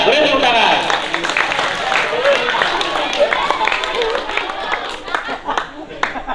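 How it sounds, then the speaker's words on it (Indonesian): An audience applauds after a singing performance at a stage event, brisk clapping mixed with cheers, light laughter and chatter, fairly close and lively throughout. "Beri tepuk tangan."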